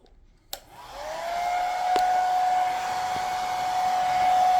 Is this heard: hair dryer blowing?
yes